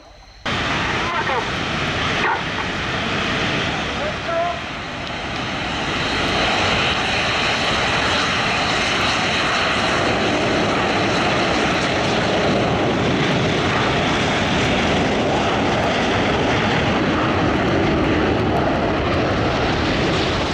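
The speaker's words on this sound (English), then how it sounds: "200 pounds of thrust being produced by those Rolls-Royce Ador engines" Red Arrows jets powered by Rolls-Royce Adour engines fly at Yeovilton Air Day, a loud, sustained roar of jet engines filling the whole span with a slight dip early on, and a faint voice commentating beneath.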